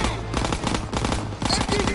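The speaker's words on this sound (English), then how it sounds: "Machine gun!" Machine gun fire in Call of Duty WWII comes as a loud, continuous rapid stream of close shots with a brief dip midway.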